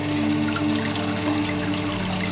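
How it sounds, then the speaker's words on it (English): Lye solution from a GP-5 gas mask tipped down a sink drain, a continuous steady gush of running liquid that stays even and fairly loud throughout, close by, with no voices. "What I'll do in a minute is pour all the lye away down the drain."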